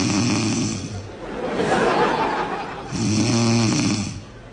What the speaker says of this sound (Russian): Коль, принцессы не храпят.